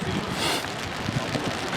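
Rain falls during a football match in İzmir, a close, rough hiss mixed with gusty wind noise against the microphone, steady and fairly loud for the whole moment.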